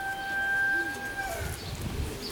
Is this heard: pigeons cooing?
yes